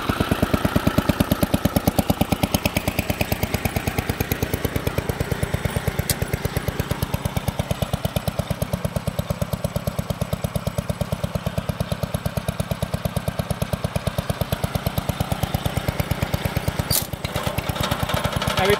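A vintage garden tractor with a newly installed engine runs steadily up close, its rapid, even firing pulses loud and continuous throughout, with no one talking.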